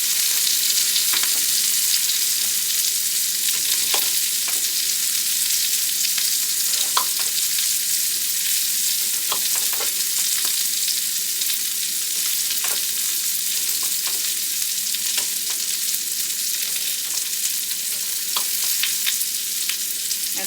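Quartered Brussels sprouts stir-fry in a pan with a steady, loud sizzle that lasts throughout, broken by occasional soft clicks and scrapes of stirring. No one speaks.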